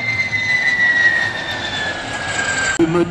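A de Havilland Vampire jet roars past with a steady high whine that slowly drops in pitch, loud and continuous, then cuts off abruptly near the end.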